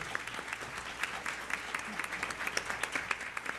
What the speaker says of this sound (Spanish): Creo que merecen el aplauso de toda la gente que nos está acompañando